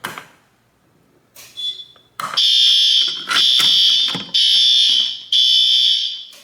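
A loud, piercing fire alarm tone sounds in four long pulses after some brief clicks and shuffling, each blast separated by a short gap, then stops; a garage alarm system test set off by key-activating a pull station.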